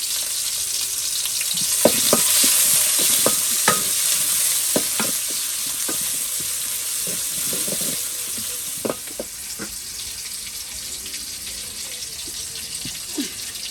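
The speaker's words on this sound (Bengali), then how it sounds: "এখন আমি পেঁয়াজ দিয়ে দিচ্ছি। দিয়ে দিচ্ছি পেঁয়াজ কুচি," Chopped onions frying in hot oil in a home kitchen give a loud, continuous sizzle with scattered clicks of a spatula stirring against the pan, no talking heard.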